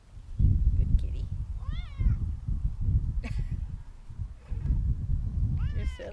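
A talkative house cat meows several times in rising, wavering calls, close by, while a person speaks softly to it in a garden setting.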